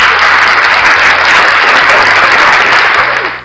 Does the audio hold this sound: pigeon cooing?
no